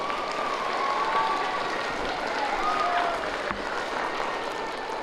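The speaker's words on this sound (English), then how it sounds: "Let's give her a round of applause." An audience of students at a school assembly for a rodeo reading challenge claps, a soft, fairly distant patter of many hands with a few whistles over the top, easing off slightly toward the end.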